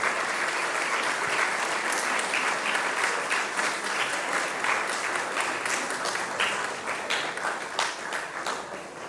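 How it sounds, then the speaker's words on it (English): Steady, dense applause from an indoor audience at an Independence Day ceremony honouring a long-serving security guard, continuous for the full stretch and tapering slightly near the end. "Please give him a big round of applause."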